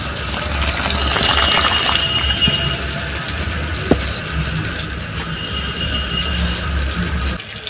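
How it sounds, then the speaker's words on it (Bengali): Water pours steadily into a cooking pot of country rooster chicken, giving a continuous splashing gush with a single small clink near the middle. "এবারে জল দিয়ে দিচ্ছি।"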